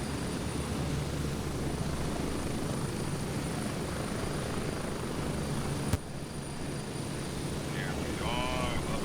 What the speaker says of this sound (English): There's another helicopter.